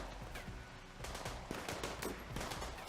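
Rapid, scattered gunfire from a RimWorld firefight, with many quick overlapping cracks forming a dense, busy volley that runs throughout, fairly soft and distant.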